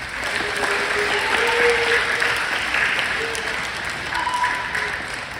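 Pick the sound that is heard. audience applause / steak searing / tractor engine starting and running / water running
audience applause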